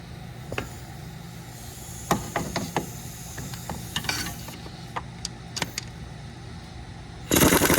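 Sharp metallic clicks and ratcheting snaps from a wrench loosening 12mm bolts on a Toyota 2.4L engine during a head gasket job, scattered at irregular intervals over a low garage hum, ending in a burst of broadband noise.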